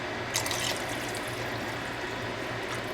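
Water is poured into a pot of homemade chicken noodle soup, a steady liquid rush with a brief splashy burst near the start, close and moderately loud.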